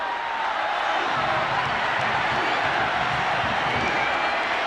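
A huge stadium crowd at a Notre Dame football game roars continuously, a dense, loud wall of cheering voices with scattered claps that holds steady throughout.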